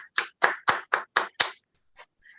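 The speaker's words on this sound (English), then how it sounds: "Can we give him a round of applause?" A short burst of hand clapping at a committee hearing, about seven distinct, fairly close claps in quick rhythm, then a couple of faint trailing claps before stopping.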